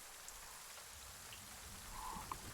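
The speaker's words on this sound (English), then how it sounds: "You can hear the sound of rain" Steady rain patters close by near the mouth of a cave, a soft even hiss with a few scattered drips, heard faintly with no voices.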